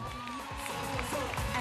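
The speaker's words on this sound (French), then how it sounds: "On va applaudir très fort pour papa Abbas Zen" An audience at a storytelling contest applauds loudly and steadily for a stage director being honored, a dense continuous wash of clapping with a bit of crowd noise mixed in.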